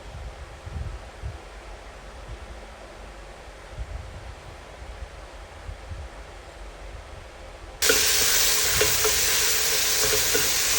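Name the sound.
stirring ginger and onion in a pan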